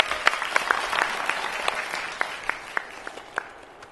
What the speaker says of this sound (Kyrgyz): Кол чабуулар жаңырсын.